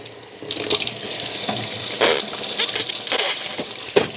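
Liquid sprays under pressure from a leaking part on a new BMW in a workshop, a close, loud hissing gush that surges in several bursts.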